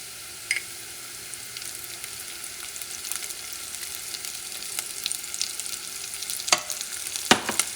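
Garlic paste sizzling in a hot pot as a beef stew is started, a faint steady frying hiss with a few sharper crackles and scrapes near the end.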